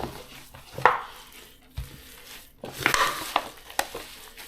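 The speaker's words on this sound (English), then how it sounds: "So let's just get this all mixed together." Ground Italian sausage meat being mixed by hand, giving soft squishing and clacking handling sounds in a few irregular bursts, with quiet gaps between.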